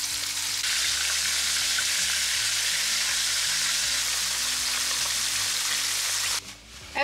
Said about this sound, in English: We're just gonna sear these on both sides.